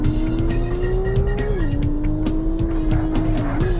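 Porsche Challenge racing game on PlayStation: a car engine drones steadily while tires squeal through a drift, the pitch bending as the car slides through the corner.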